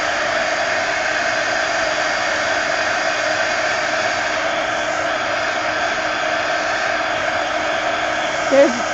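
A hair dryer or heat tool blows steadily at close range over wet green acrylic paint in an art journal, a continuous even whoosh through the whole stretch with a brief bump near the end.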